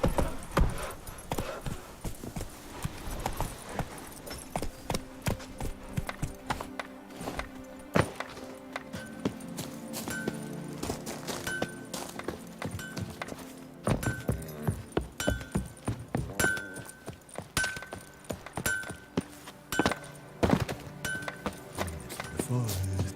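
Horse hooves clip-clop in the Witcher 3 video game, a steady rhythmic trot of close, crisp hoofbeats with game sounds and a voice speaking over them.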